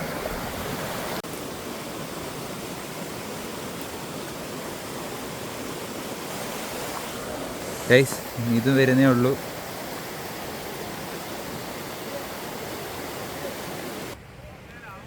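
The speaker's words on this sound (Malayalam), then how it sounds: "വെള്ളച്ചാട്ടം നമ്മൾ വിചാരിച്ച പോലെ ഭയങ്കര വലിയൊരു വെള്ളച്ചാട്ടമല്ല" Kaalikesam waterfall near Kanyakumari, a modest cascade in the dry season, gives a steady broad rush of falling water throughout, with a short burst of nearby talk partway through before the sound cuts out near the end.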